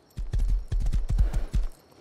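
Rapid clip-clop of horse hooves in the video game Rust, about a dozen crisp hoofbeats in an uneven galloping rhythm, close and fairly loud with no talking.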